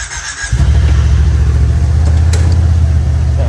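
A BMW G30 sedan, idle for about two weeks, cranks briefly and fires up, then settles into a loud, steady idle close by.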